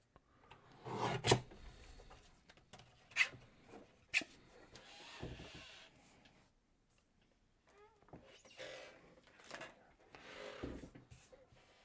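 Paper is trimmed for card making: a few sharp rasping slides of a trimmer blade, close and fairly quiet, with soft rustling and handling noises between them.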